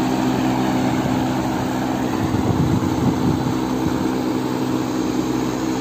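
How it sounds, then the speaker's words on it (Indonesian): A York fan motor runs on its own with a steady, loud, droning hum that holds evenly throughout, with no voices over it. "So isa lang yung fan motor na umandar."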